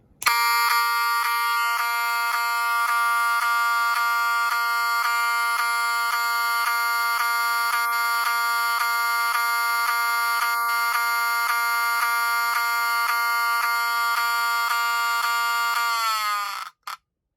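A Gamewell 68291 fire alarm horn blares one loud, steady buzzing tone for about sixteen seconds, then cuts off abruptly.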